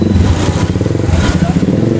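Super Star 200 motorcycle engine on a test ride, a loud, steady, throbbing mid-pitched engine drone with slight rises, close to the rider, with faint talk underneath.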